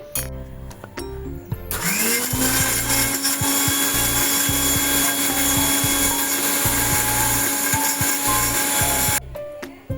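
A mixer grinder grinding lentils whirs loudly and steadily for several seconds after a brief lead-in, with a rattling, grinding texture, then cuts off.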